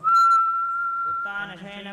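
A steady, clear whistling breath on an inhale during yoga holds one pitch for over a second, then gives way to a brief, buzzier tonal sound; no talking.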